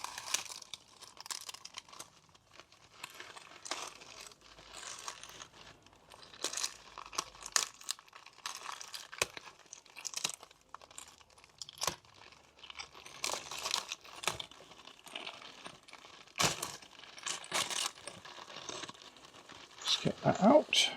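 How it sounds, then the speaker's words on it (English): A taped-down plastic wrapper on a Jaguar XK8 gearbox filter pack is peeled and opened, giving steady close crinkling and crackling with occasional sharp tearing snaps through the whole stretch, fairly quiet throughout. "Time to open our filter pack."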